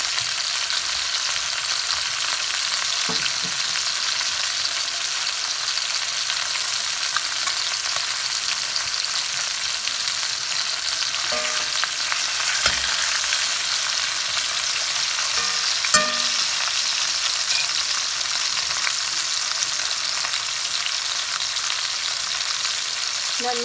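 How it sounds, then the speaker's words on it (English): Beef short ribs searing in a pan on a stovetop, rendering fat with a steady, loud hiss of sizzling and a few faint clicks and taps throughout. "it's gonna render off some beef fat into the pan"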